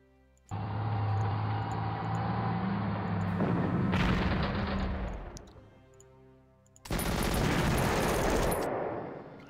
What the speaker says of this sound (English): there is artillery down there. Huge, big artillery.